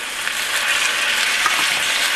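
Potatoes and masala mixture frying in a pan over medium heat, a steady close sizzle and crackle throughout with no talking.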